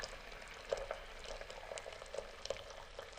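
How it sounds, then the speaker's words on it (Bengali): Egg korma curry bubbles softly in a pan as it is stirred, with faint simmering and gentle scraping clicks of a utensil scattered across a quiet background. "দিয়ে আমি আবারও খুব ভালো করে নাড়াচাড়া করে নিচ্ছি"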